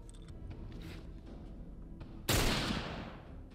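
A single loud gunshot from The Last of Us Remastered video game rings out sharply and decays over about a second, following quieter background game ambience.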